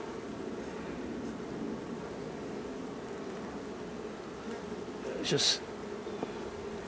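Honeybees hum in an opened hive during a September inspection, a dense, steady buzzing drone close by, with a brief sharper rustle near the end and a single quiet spoken word.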